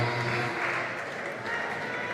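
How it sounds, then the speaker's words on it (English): Crowd cheering and applauding for athletes at a youth European bouldering cup final in Kaunas, a steady broad wash of clapping and cheers sustained throughout, moderately loud and close. "It's getting more and more cheering for athletes."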